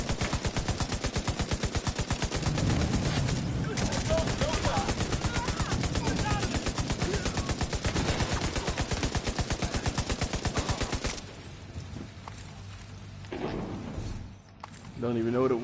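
Rapid automatic gunfire in The Division 2 video game, a dense continuous burst lasting about eleven seconds and then stopping, with players talking underneath.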